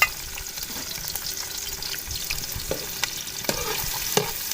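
Two large onions frying in about one and a half cups of hot oil in a kadai give a steady crackling sizzle, with a few sharper spatters and stirring clinks near the end.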